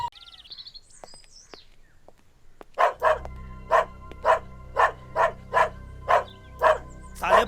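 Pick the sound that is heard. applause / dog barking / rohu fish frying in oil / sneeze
dog barking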